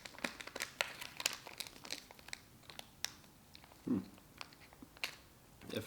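An MRE peanut butter packet is crinkled and torn open in quick, close, faint crackles and rustles, alone without talk.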